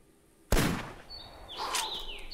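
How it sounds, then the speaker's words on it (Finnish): A single sharp rifle shot rings out at a deer in the hunting game theHunter, a loud close crack that decays into the surroundings, followed by bird calls chirping in the background. "ainakin niinku kerran ammuttu ensimmäistä peuraa"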